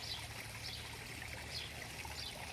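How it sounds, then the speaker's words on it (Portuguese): A small garden stream trickles steadily beside a little fish pond, a soft continuous burble of water with faint high glints, heard alone at low volume. "Então o riacho, perdão, fica assim."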